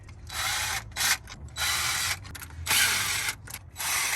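Ratchet wrench loosening the 10mm valve cover bolts on a 1990-and-up Mazda Miata, close and clear rapid clicking bursts in short repeated strokes separated by brief pauses.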